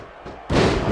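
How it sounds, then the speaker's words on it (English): A wrestler's head is slammed into the ring canvas in the Smackdown vs Raw 2006 video game, landing as one sudden loud thud that cuts in halfway and leaves a dense roar behind it. "And just slamming Griffin's head right into the canvas."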